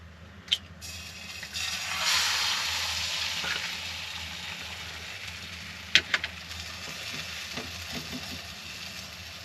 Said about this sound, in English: now we're going with an egg in the pan